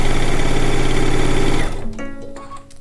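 A sewing machine runs steadily and loudly, stitching a quarter-inch seam on a log cabin quilt top, then stops abruptly with a few faint clicks and a lingering tone.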